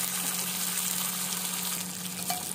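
Fish shallow frying in oil in a pan gives a steady, close, continuous sizzle with a constant low hum underneath and no voices.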